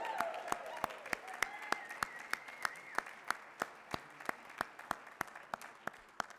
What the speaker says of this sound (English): this, again, is where the congregation goes wild with applause.